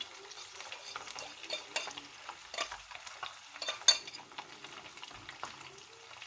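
Spices get stirred into food in a pan, with soft scraping and light clinks of a utensil against the pan over a low sizzle, in quiet irregular strokes.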